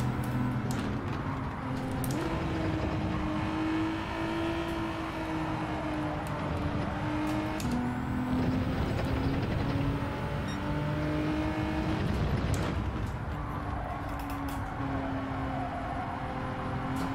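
Race car engine in the Gran Turismo 7 racing game, revving steadily and loudly throughout with several audible upshifts and pitch drops, continuous and close, with no talking over it.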